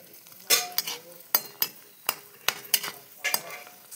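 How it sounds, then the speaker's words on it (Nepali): Puri dough frying in a pan of oil for pani puri, heard as a soft sizzle broken by sharp metal clinks and scrapes from a utensil striking the pan several times at irregular intervals, close by. "फ्राई गर्दैछु पुरी चाहिँ।"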